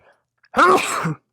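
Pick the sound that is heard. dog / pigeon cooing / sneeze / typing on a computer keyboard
sneeze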